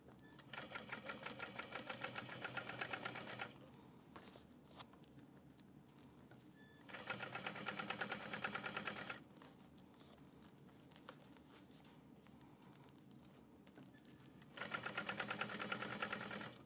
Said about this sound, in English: I'm going to pull on those layers as I top stitch